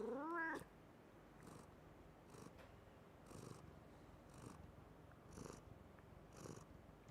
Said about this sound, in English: He's purring and complaining at the same time.